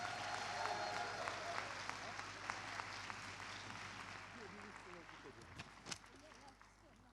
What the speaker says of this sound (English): Can we have another round of applause for the debaters?